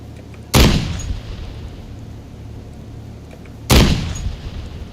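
Two sharp, loud gunshot-like blasts in the DayZ video game, a few seconds apart, each with a fast attack and a rumbling, fading tail over a steady low background hum.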